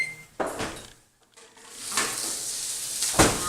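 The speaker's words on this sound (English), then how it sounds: "I'm going to go ahead and get those peppers out of the oven" An oven door opens with a clunk and a baking pan of stuffed peppers is pulled out, giving a few sharp knocks and scrapes separated by a short quiet pause.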